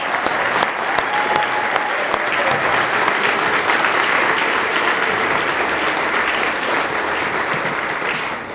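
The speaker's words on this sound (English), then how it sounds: "Let's give her a round of applause." A celebration audience claps for a guest speaker at a Martin Luther King event in Simsbury, sustained dense applause filling the room at a steady, loud level without speech.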